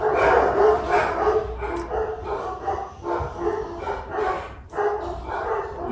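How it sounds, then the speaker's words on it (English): Several dogs bark and yip excitedly indoors, rapid overlapping barks with whimpers in between, loud and close throughout. "Cue the dogs freaking out."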